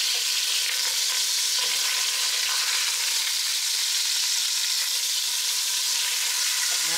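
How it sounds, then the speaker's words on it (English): Ribs browning in a hot pan give off a steady, loud broadband sizzle that holds evenly throughout, with a few faint clicks and no talking. "I'm going to go ahead and turn these. They've been browning."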